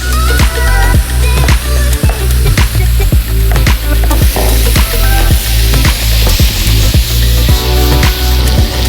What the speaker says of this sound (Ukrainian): Обсмажуємо на великому огні